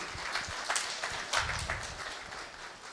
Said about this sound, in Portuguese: Salva de palmas para todo mundo